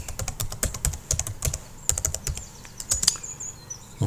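Rapid, irregular keystrokes on a computer keyboard, close and crisp, a steady run of clicks with a firmer Enter press near the end; no talking.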